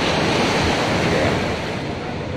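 Ocean waves wash steadily onto the long white-sand beach at Bira, South Sulawesi, a loud continuous surf roar mixed with wind buffeting the microphone, with no voices.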